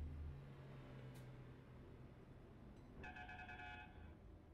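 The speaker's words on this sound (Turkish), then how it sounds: "kornayı da ilk defa duyuyorum ha" A truck horn in a driving game sounds as a short, faint series of rapid pulsing toots near the end, over a quiet steady engine drone.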